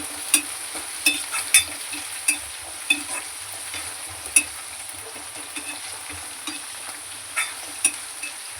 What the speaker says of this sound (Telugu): ఇలా తిప్పుకుంటూ ఆనియన్ గోల్డెన్ బ్రౌన్ వచ్చేదాకా తిప్పేసుకుందాం